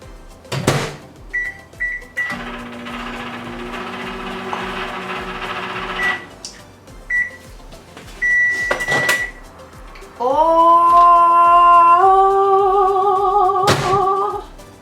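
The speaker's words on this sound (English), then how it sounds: "Into the microwave we go." A running microwave oven heating food, with a steady low hum, several short beeps from the keypad, door thunks, and a loud rising tonal whine near the end, and little else nearby.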